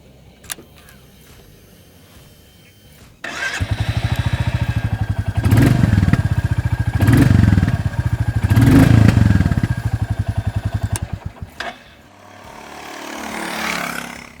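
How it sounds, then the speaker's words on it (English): A Royal Enfield Bullet 350 single-cylinder engine starts after a short pause and settles into a loud, steady thumping idle, with a few blips of the throttle before it cuts off. "once you fire up that engine, all those thoughts will fade away. And this engine sounds really authentic"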